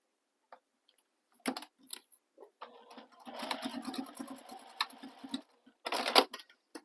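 A sewing machine bastes a folded fabric loop for a stocking, with a few clicks and short bursts leading into a rapid mechanical stitching run, then a final brief burst, close and moderately loud.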